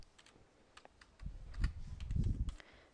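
Rapid keystrokes clatter on a computer keyboard, soft irregular taps building into a busier burst of typing, close and quiet with no voices.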